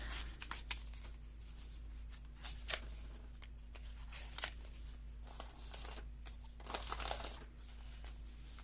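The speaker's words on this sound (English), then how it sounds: "Let me rip off a bit of this." A piece of paper torn off by hand during page decorating, soft crinkly ripping and rustling in short bursts, close but quiet, with no voices.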